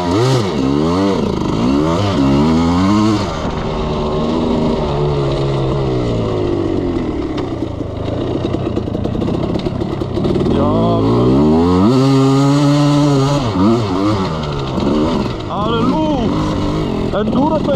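Two-stroke enduro motorcycle ridden off-road, its engine loud and close, revving up and down repeatedly with sweeping pitch changes as the rider throttles through the trail, with someone talking at moments.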